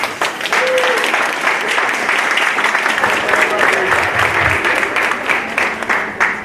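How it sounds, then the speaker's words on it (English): Sustained, dense audience applause for students at a high school winter concert and art exhibition, a steady loud wash of many hands clapping that continues throughout. "So please give them a round of applause."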